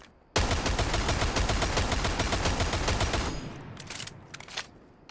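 Rapid semi-automatic DMR rifle fire on a shooting range in Rainbow Six Siege, a dense continuous burst of shots for about three seconds, then a few separate trailing shots fading out.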